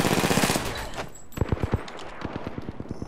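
Automatic gunfire in the Apex Legends video game, a dense rapid burst followed by a rhythmic string of sharp individual shots, loud and close with no talking.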